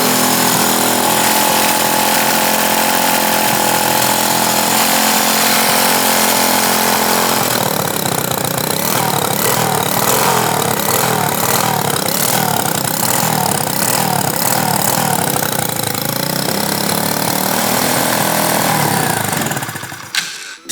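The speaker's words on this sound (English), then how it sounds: "it's spooling the turbo just on idle" A fuel-injected 125cc turbocharged go-kart engine idles loudly and continuously up close, its buzzing drone shifting midway into a rougher, pulsing tone with a faint turbo whine, then cutting off abruptly at the end.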